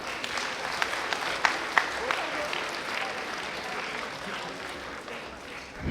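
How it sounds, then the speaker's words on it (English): Applause from a school assembly audience as a student collects a medal on stage, sustained clapping with a few sharper claps early on, holding steady and fading slightly toward the end. "Can we have a round of applause for her?"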